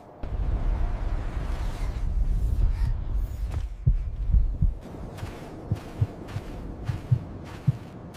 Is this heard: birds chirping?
no